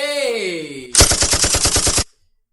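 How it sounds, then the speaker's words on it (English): About a second of rapid automatic gunfire as a sound effect, roughly ten evenly spaced loud bursts, follows a falling tonal sweep and cuts off abruptly into silence. "Definitely need some gunshots on that shit."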